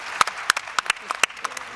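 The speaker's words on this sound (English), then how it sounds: "a big round of applause for our first panelists" Scattered, sparse clapping from a convention audience at the FIFA Women's Football Convention, a handful of distinct individual claps at uneven intervals rather than a full ovation.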